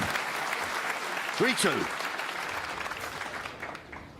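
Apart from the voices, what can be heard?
snooker crowd applauding a shot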